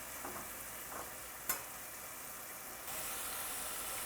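Onions and aromatics sizzle steadily in a pan for vegan Mexican black beans, a close, continuous hiss with a sharp clack of the spoon as it is stirred, the frying growing brighter near the end.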